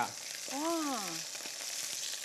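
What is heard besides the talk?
fish slices frying and sizzling in a pan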